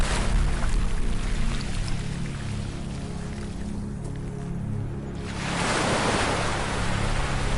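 Beach waves wash in and recede as a broad, soothing hiss of surf, thinning midway before swelling back with a fresh rush of water, steady and close with no voices.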